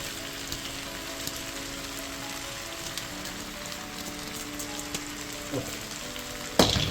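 Rice for Kerala-style egg fried rice is tipped into a hot pan and stirred, giving a quiet, steady crackling sizzle with faint scrapes and clicks and a sharper knock just before the end.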